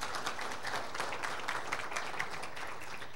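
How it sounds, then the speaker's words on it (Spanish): An audience at an indigenous forum applauds a visiting delegation from Belize, a steady, distant wash of clapping from a crowd, sustained and even throughout. "un aplauso"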